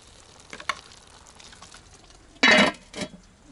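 Pilau, rice with meat, frying in a pan, heard as a faint low sizzle with a few soft stirring taps, then one louder burst of scraping or sizzle near the end, close by, with no talk.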